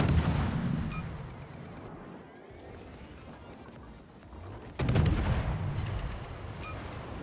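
Naval gunfire from the Commonwealth destroyer HMCS Haida in World of Warships, steady rumbling salvos and booming shell impacts rolling on, briefly dropping then surging loud again with a fresh barrage.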